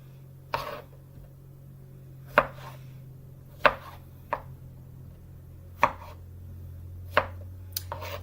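A knife cuts through large strawberries on a cutting board, giving sharp, separate chops at an uneven, unhurried pace, each one close and distinct over a low steady background hum.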